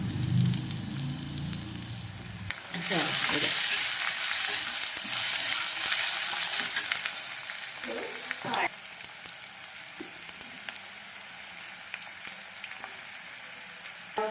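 Potato pieces fry in hot oil in a pan, a loud steady sizzle that swells after a quiet start and keeps up with a few stirring scrapes and clinks.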